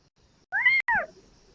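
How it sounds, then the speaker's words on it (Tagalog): Small stray ginger kitten meowing close by, two short, high, clear meows in quick succession with silence around them. "Ginger siya na pusa."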